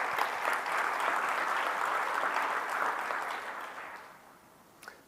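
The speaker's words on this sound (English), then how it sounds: "So I would like a big applause for these guys." Audience at a MySQL conference talk (Percona Live 2022) applauding loudly and steadily for several seconds, then the clapping thins and fades out, with a last few scattered claps near the end.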